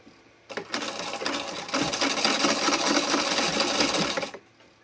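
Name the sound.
sewing machine backstitching on tea towel fabric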